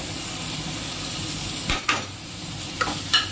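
Stirring spiced greens frying in a pan with salt, turmeric, chili and green chilies, a steady close sizzle with a few brief scraping clatters of the spoon against the pan.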